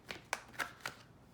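Tarot cards are shuffled in a quiet room, four quick crisp riffling bursts spaced evenly over about a second, faint and close.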